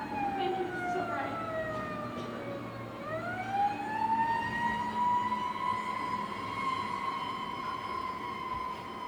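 An ambulance siren wails in a stage production of The Outsiders, its pitch sliding down and then rising again in a loud, continuous sweep.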